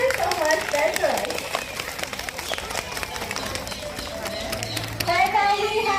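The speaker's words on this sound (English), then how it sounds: "Please give a applause to Petrus" Audience at a Bali bird park show clapping after a bird's display, continuous scattered applause with children's voices and chatter mixed in, a few louder shouts near the end.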